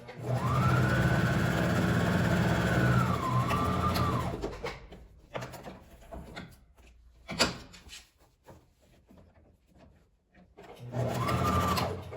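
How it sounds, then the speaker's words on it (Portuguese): A domestic sewing machine stitches a fabric organizer in a steady, loud motorized hum for about four seconds. Handling clicks and fabric shuffling follow, and a second short run of stitching comes at the end. "só tem a máquina doméstica, vocês vão ver que é possível fazer esse organizador aqui nela"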